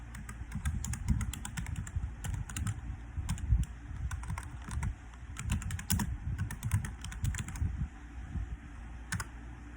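Rapid typing on a computer keyboard while entering a drink order into an ordering system, a close, quiet run of crisp key clicks in uneven bursts with short pauses between them.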